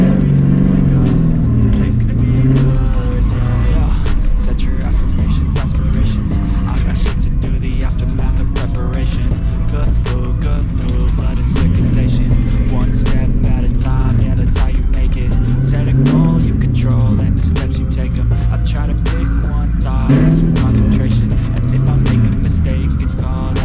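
A V8-swapped Volvo 240 sleeper engine runs steadily up close, a loud, continuous droning rumble with shifting tone and no break for the whole stretch.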